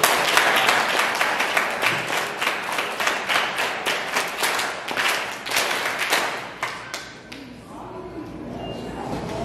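Children at a church children's programme clapping in rhythm, a run of sharp, fairly even claps over several seconds that thins out toward the end, with some voices under it.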